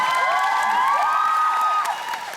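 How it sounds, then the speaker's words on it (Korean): A concert audience breaks into loud cheering and applause, with high excited shouts and squeals riding over the clapping before it fades slightly at the end. "여러분, 시의 단체 다시 한번 박수 부탁드리겠습니다"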